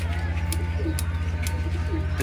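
Pigeons cooing softly during a 23-bird pigeon flying competition, a few low coos heard against a constant engine-like drone and occasional sharp clicks.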